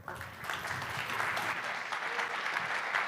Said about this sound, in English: Please give your applause to Patrick.